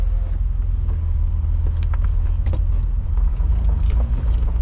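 A BMW E28 535is with a low-RPM misfire pulls away down a street, its engine giving a steady, loud low rumble throughout, with faint light rattles and clicks over the top and no talking.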